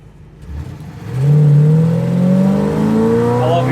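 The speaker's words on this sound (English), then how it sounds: "That sound of that motor and that 4-barrel opening up are wow" A 1957 Chevrolet Bel Air V8 with a 4-barrel carburetor revs up from a low idle into a loud, rising roar, climbing steadily in pitch through the gears, close and sustained with no talking.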